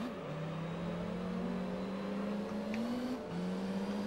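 Simulated race car engine in the Gran Turismo 3 video game, held in second gear and accelerating toward 100 km/h, a steady droning whine that climbs slowly, drops briefly at a shift, then resumes; no talking.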